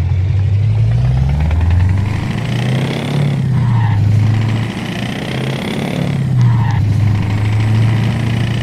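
Modded truck engine in Euro Truck Simulator 2 rumbles loudly and continuously, its deep drone rising and falling in pitch as revs change, with faint higher whines over the top and no talking.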